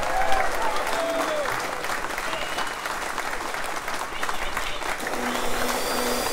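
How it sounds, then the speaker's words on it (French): A crowd applauds at the prize giving for the 2022 Golden Globe Race, with sustained, even clapping throughout, scattered voices and a few whistles mixed in. "Applaudissements encore pour Michael, s'il vous plaît."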